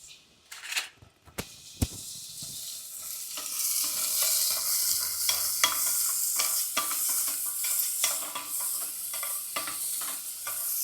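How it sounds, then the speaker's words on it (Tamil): Onions and tomatoes fry in sesame oil with a bright, continuous sizzle and scraping stirs, close and steady after a few clattering knocks at the start. "ஊற்றிட்டு இந்த வெங்காயத்தையும் தக்காளியையும் நம்ம போட்டுடலாம்."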